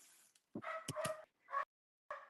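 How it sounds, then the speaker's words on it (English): Several dogs bark in a few short, faint bursts separated by gaps of silence, heard at a distance. "if you guys can just hear the dogs barking, because that would be annoying"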